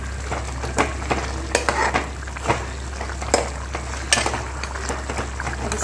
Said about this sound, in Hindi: हमने जो मिर्च फ्राई किए थे वो डाल देंगे इसमें और उनको भी अच्छे से मिक्स कर लेंगे